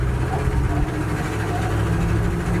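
Inside a moving old Dodge truck, in second gear, a low rumbling drone with a faint whine from the transmission carries on steadily.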